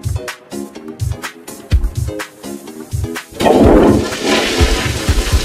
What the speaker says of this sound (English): Now it's time pull up my pants and underwear and flush the toilet.